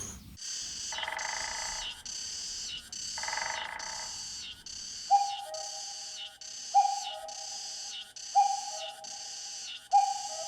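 Common cuckoo calling in Gwangneung forest, clear two-note calls repeating at a steady pace over a dense chorus of other forest birds, with a later series of short whistled notes ringing out every second or so.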